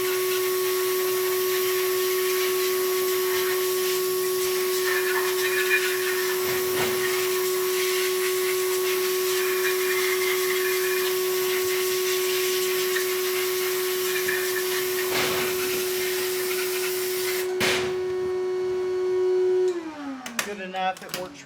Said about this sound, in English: we're going to media blast this hub right here.